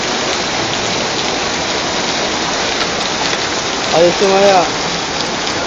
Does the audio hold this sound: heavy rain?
yes